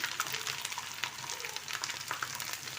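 Minced ginger, about a tablespoon, sizzles in hot oil in a pan while paya is being prepared, a steady crackling hiss with scattered sharp pops and no talk.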